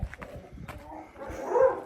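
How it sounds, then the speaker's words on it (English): A dog barks from inside a building at an abandoned site in France, muffled and somewhat distant, with a few yips and a longer bark mixed with faint outdoor noise. "there's a dog in there, Freds."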